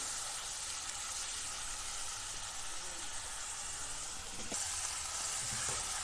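Onion paste fries in a pan as a broad, even hiss of sizzling, with faint, occasional stirring sounds and a slight rise in intensity near the end.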